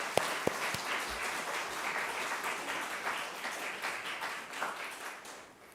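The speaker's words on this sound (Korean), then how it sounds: "우리 다음 세대 희망으로 이끌어가는 모든 이들에게 박수 한번" A church congregation applauding, dense steady clapping from many people at a moderate distance that gradually fades toward the end.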